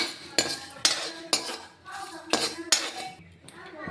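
A spatula scrapes and clinks against a pan in about seven quick strokes, stirring mustard and radhuni spices frying, with a bright metallic rhythm close by.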